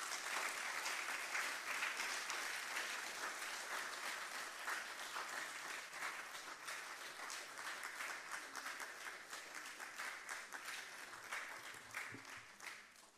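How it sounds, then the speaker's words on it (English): Steady audience applause follows the introduction of a keynote speaker at a formal evening event, a dense wash of many hands clapping that holds at an even level for about thirteen seconds with no talk over it. "A round of applause, please."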